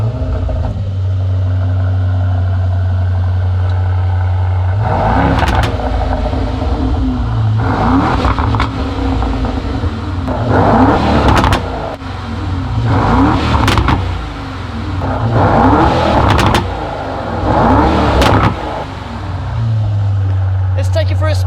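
Aston Martin DB12 Volante V8 fitted with a QuickSilver exhaust revs repeatedly in loud, close blips over a steady idle, while people talk intermittently nearby.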